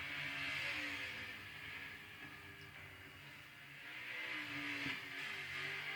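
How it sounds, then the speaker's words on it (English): The number 14 race car's engine drones and revs in Forza 7, a faint, sustained whine that swells and eases slightly. "you hear that beautiful engine in that number 14 car"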